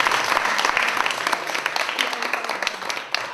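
An audience at an art talk bursts into steady, dense applause for a performer, many hands clapping together at fairly close range for a few seconds with no voices over it.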